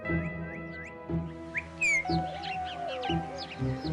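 A cockatoo gives a series of whistled, chirping calls, rising and sliding squeaks repeated rhythmically over a steady low hum.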